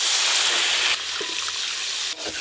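Water pours in a steady loud gush into a pan of cooked-down mutton curry masala, then shifts to a lower bubbling flow with small splashes near the end, with no talking.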